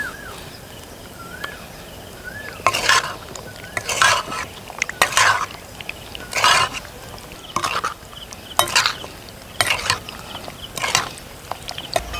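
A spoon stirs a gongura chicken pickle mixture with chili powder, lemon juice and gongura paste. About ten wet, scraping stirs repeat at an even pace against the pot, close and fairly loud.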